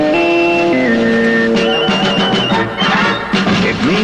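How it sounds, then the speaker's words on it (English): A CBS Radio sports signature: a loud electronic musical signal of sustained tones stepping between pitches, then a busier burst of brighter tones and rapid figures, alone without speech. "Our sports signature sounds like this."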